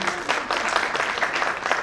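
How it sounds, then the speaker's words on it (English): An audience at an English language institute's annual program applauds a performer, steady dense clapping filling the room throughout, loud and close. "A round of applause for Parth Gandhi once again."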